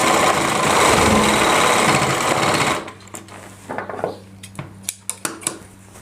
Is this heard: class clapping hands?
no